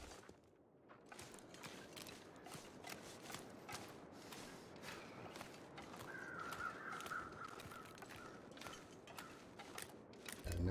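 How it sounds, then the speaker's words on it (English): Crows caw repeatedly in the video game The Long Dark, on a sunny day outdoors. Harsh calls keep coming in a steady stream at moderate distance, mixed with creaking and ratcheting noises. "Crows are out."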